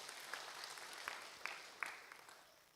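Faint, scattered clapping from a congregation at a Kikuyu church service, a few sharp claps popping out of a quiet room.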